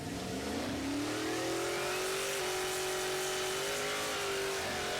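A 2,000 horsepower street race car engine, originally front-wheel drive, holds a loud sustained drone with a rising pitch as it revs, constant and close for several seconds.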